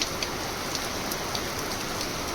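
A torrential Gujarat rainstorm pours down steadily, a thick unbroken wash of rain noise close by, with no one speaking.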